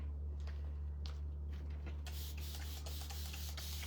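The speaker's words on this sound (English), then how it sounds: "Just spray it down with water." Several quick spritzes from a spray bottle, then a denser misting burst, all over a constant low electrical hum.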